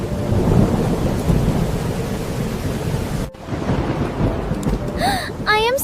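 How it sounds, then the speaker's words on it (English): A thunderstorm with heavy rain roars steadily as a dense, loud wash, broken by a sharp thunder crack partway through; a brief cry or whistle-like voice sounds near the end. "Heavy rain may cause dangerous flooding today. This storm looks serious."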